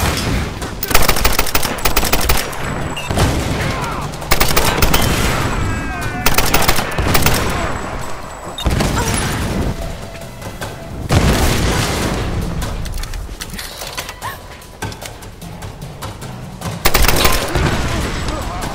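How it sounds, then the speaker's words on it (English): Machine gun fire and explosions in the 2013 Tomb Raider video game: dense sustained bursts of automatic gunfire with heavy booms, loud and continuous across the whole stretch, with a few brief gaps between volleys. "Everybody's blowing up. I know it's an old machine gun,"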